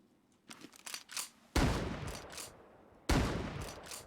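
Gunfire in the game Mooserust, a scatter of quick shots followed by two heavy loud blasts with ringing tails, close and alone.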